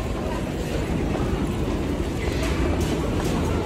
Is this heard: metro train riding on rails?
yes